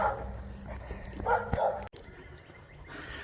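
A dog barks a few times in sharp, yappy bursts outdoors on a walk. Footsteps and ambient outdoor noise fill the gaps, and the sound cuts out abruptly midway.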